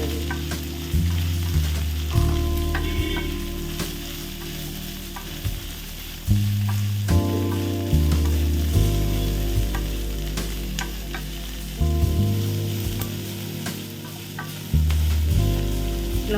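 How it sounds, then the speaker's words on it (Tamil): Dried manathakkali berries fry in hot oil, giving a steady crackling sizzle with repeated scraping stir strokes throughout, close and alone. "இதையும் இந்த எண்ணெயிலே போட்டு நல்லா வதக்கணும்"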